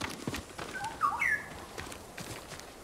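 A bird chirps and trills a few times near a bamboo hut in Ghost of Tsushima, its quick calls clustered mid-clip over faint outdoor ambience, fairly close but not loud.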